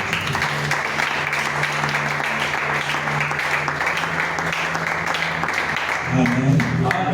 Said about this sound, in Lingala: Acclamons d'abord pour l'interprète.